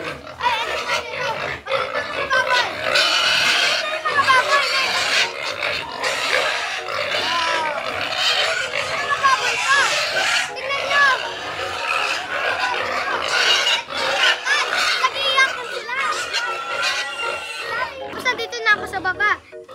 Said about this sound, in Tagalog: Papakita ko lang ang ito yung nanay baboy. Yung malaki.